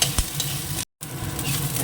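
Ginger and garlic paste sizzles and fries in a hot pan while being stirred, a steady close crackle with scraping stirs, broken by a brief moment of silence midway.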